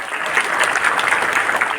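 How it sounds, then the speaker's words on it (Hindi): A brief burst of loud audience applause at a team leaders' event, dense clapping with crowd noise throughout. "मैं चाहूंगा एक बार जोरदार तालियां"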